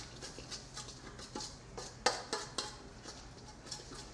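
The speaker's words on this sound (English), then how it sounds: "I'm going to mix all this stuff around again." A spoon works Caesar salad dressing ingredients, Worcestershire sauce among them, around a bowl, crushing more than stirring, with faint irregular clinks and scrapes that sharpen briefly midway, heard close and quiet.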